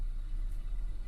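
Car engine idling smoothly, a steady low rumble close by with no talk over it.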